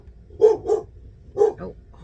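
A German Shepherd barks indoors during a storm, giving two quick pairs of sharp, fairly close barks with short pauses between them.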